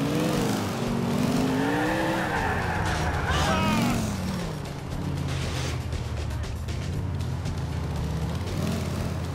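A car in the video game GTA IV drives with engine revs rising and falling and tires squealing in wavering skids, while someone talks over the game sounds.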